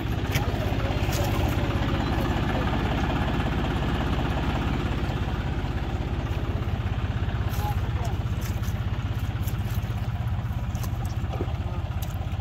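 A Mahindra tractor fitted with cage wheels, stuck in the field, idles with a loud, close, steady low engine throb that chugs evenly without pause.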